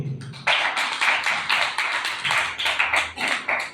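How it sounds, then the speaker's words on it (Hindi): An audience at a Safe Shop business plan seminar claps in steady, rhythmic bursts. The applause is close and crisp, repeating at an even beat for several seconds, with no talking over it. "ताली थोड़ी कमजोर हो गई"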